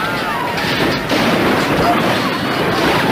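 Dramatized gunfire from Custer's retreat at the Battle of Little Bighorn: a dense, continuous barrage of shots and booming fire that stays loud and unbroken, with possible faint voices mixed into the din.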